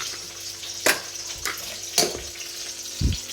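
Eggplant slices frying in a pan for breakfast, with a soft steady sizzle broken by a few louder bursts of spitting and clatter, no talking.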